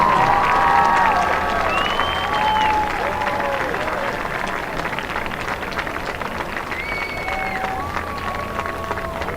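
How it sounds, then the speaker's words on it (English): A stadium crowd at a high school football game between Altoona Mountain Lions and Cedar Cliff Colts applauds senior band members, broad steady clapping and cheering with a few whistles and shouts over it. "Would you please join in a round of applause for this year's senior band and band jump"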